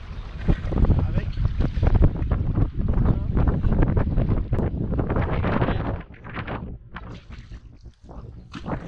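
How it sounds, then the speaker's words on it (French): Strong wind on the water of the Vilaine river during catfish fishing, battering the microphone with loud, continuous roaring gusts that ease slightly toward the end, with waves and a voice faintly underneath. "Il y a beaucoup de vent, ça c'est chiant pour la pêche du silure."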